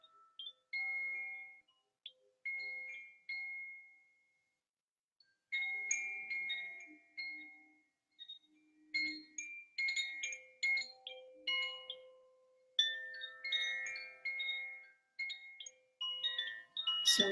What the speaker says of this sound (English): This is a koshi chime. It's the water element.